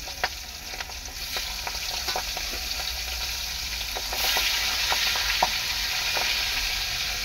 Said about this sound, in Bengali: মাছটা আমি এখন ভাজা বসিয়ে দেবো।